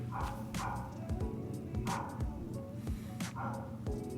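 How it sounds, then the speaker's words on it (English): The neighbour's dogs bark outdoors in a few short, scattered bursts, faint and distant, heard from inside a quiet room. "Those are not my dogs, those are the neighbor's dogs."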